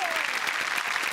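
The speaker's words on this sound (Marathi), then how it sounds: "जोरदार टाळ्या." An audience claps enthusiastically at a Marathi film event on stage, a dense, continuous burst of applause filling the hall without pause.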